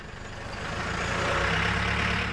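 Heavy trucks and forklifts working at a junk cleanup make a steady, broad diesel rumble that swells slightly and holds throughout, with no voices.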